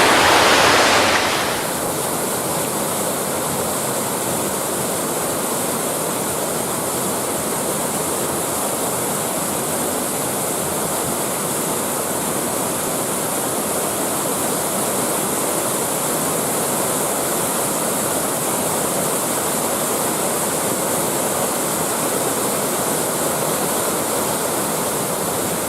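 Waterfall at Crummock Water in the Lake District, a steady, loud, unbroken rush of falling water heard close by with no voices.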